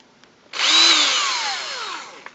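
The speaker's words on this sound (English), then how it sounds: "and used my Black & Decker drill." A Black & Decker drill running a 3M polishing kit on a frame after sanding: a sharp start-up into a steady high whine that slowly drops in pitch as it runs, alone and close.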